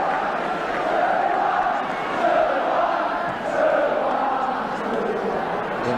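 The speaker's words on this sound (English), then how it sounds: "The inevitable cry from the crowd of 2-1." Football crowd at an Arsenal versus Ipswich Town match chanting a 2-1 scoreline, a large mass of voices rising and falling in a rhythmic, distant chant across the stadium, without commentary over it.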